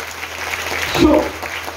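Church congregation breaking into warm applause during a service, a short burst of dense clapping that swells near the middle, with a voice speaking over it.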